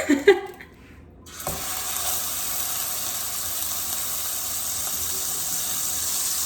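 Ground beef frying loudly in reserved bacon fat for chili, a steady close hiss and sizzle that starts after a few brief knocks and runs on alone.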